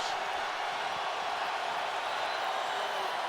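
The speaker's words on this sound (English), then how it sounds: "Crowd buzzing with defense." The crowd at an NFL stadium hums with a continuous, even murmur during a 2009 San Francisco 49ers game, heard from a distance as a wash of noise.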